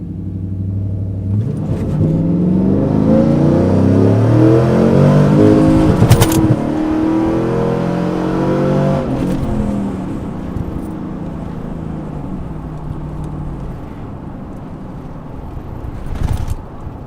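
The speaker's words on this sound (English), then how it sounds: "So I just did this 0 to 60 time with the cold weather" Car launching hard from 0 to 60 in cold weather with traction control off, a loud rising engine roar through several gear changes, heard from inside with no talking.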